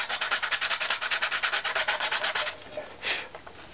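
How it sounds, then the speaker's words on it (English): Rhythmic back-and-forth sanding of wood, steady rasping strokes for about two and a half seconds, then a couple of slower, quieter passes. "So just sanding here, see how it did."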